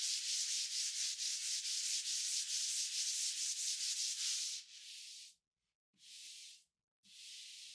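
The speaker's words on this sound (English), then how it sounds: "I love using this wood fill because it's so easy to sand by hand." Hand sanding of Dixie Belle mud wood filler on a painted bedside table, a steady rapid back-and-forth rasp of close, even strokes that gives way to a few separate longer swipes with short pauses between.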